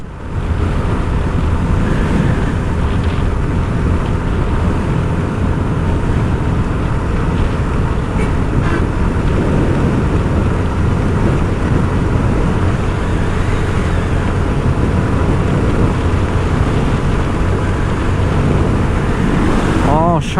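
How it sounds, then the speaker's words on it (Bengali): Strong wind roars into the microphone of a motorbike crossing the Padma Bridge, a steady loud broadband rush with engine and road noise beneath it for the whole stretch. "প্রচন্ড বাতাসের ফ্লো।"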